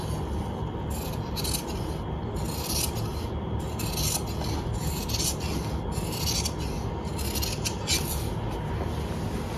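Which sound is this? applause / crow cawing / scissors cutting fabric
scissors cutting fabric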